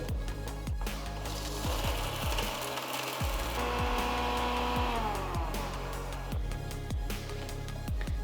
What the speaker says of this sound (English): Transfer the cooled ingredients to the mixer jar and grind it to a nice fine powder.